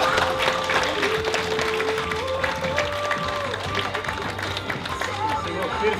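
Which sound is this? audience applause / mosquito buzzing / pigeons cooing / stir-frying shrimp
audience applause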